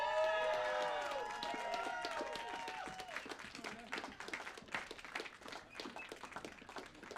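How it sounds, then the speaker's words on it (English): A crowd in Annapolis, Maryland claps and cheers for a charity cycling team at the Race Across America, starting with loud whoops and cheers over a burst of applause that settles into steady clapping, with a voice speaking over the noise. "Let's give a big cheer for Team Blesma."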